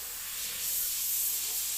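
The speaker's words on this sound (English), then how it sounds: "I'm not even spraying. I'm just spraying air before I pull the trigger." An airbrush sends out a continuous airy hiss of plain air with no paint flowing, while a tiki painting is under way. The hiss is steady and close, swells slightly midway, and has no talk over it.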